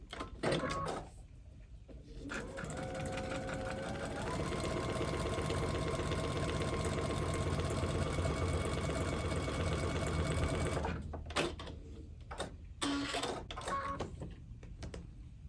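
A sewing machine stitches a foundation paper pieced quilt block, running in one loud, steady rattling whir for several seconds, then trailing off into scattered clicks and handling sounds.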